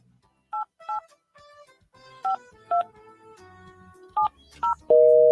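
A telephone number is dialed, producing a string of short, distinct touch-tone beeps at uneven intervals over a faint background, ending as a steady continuous tone begins.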